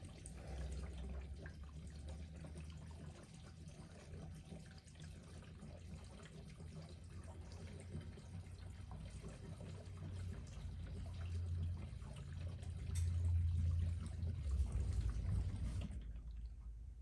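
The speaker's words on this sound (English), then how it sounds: "Let's see if I can put a little more fuel in it without spilling it all over the tank." Fuel pouring into the tank of a Honda C110 motorcycle, a steady, soft liquid trickle that thickens and grows louder near the end before stopping.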